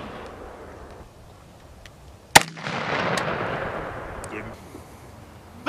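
A Marine SMAW shoulder-launched rocket fires on a range with a single sharp, loud blast followed by a long rushing roar that fades over several seconds, as voices call out in the background.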